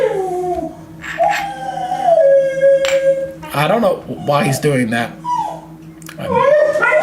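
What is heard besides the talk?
dog howling and whimpering indoors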